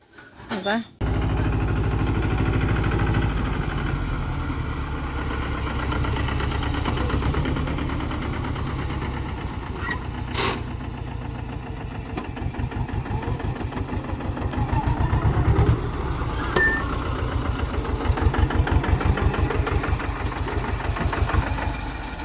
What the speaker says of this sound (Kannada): ಇದು ಈಗ ಸಣ್ಣ ಟ್ರ್ಯಾಕ್ಟರ್ ಇನ್ನೊಂದು ದೊಡ್ಡ ಟ್ರಾಕ್ಟರ್ ಉಂಟು